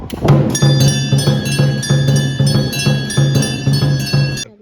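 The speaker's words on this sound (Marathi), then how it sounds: "मी आता इथे बेल वाजवणार आहे" A hand bell rung at a village site in Katroli, Chiplun gives loud, close, rapid metallic clangs, about ten strikes in four seconds, ringing on with a bright sustained shimmer and no talking.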